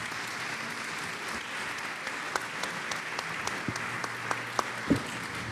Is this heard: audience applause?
yes